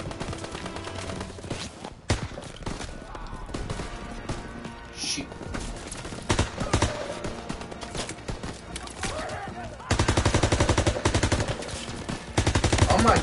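Rapid gunfire from a Call of Duty Zombies shooter, with weapons firing at German enemies in dense, loud bursts and sustained volleys over busy in-game effects, growing heavier toward the end.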